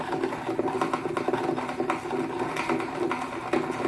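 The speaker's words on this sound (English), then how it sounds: "all I have to do is crank my reel" A fishing reel is cranked to spool new fluorocarbon line over old monofilament backing, giving a close, steady whirring and clicking rhythm with no speech.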